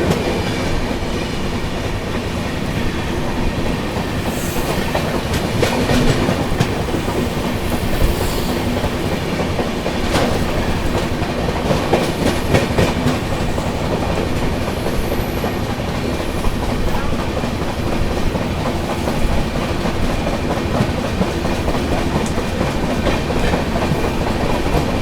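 Howrah–Guwahati Saraighat Express, hauled by a WAP-7 electric locomotive from Howrah shed, roaring past close by with a continuous loud rumble and clickety-clack of wheels over rail joints, no speech.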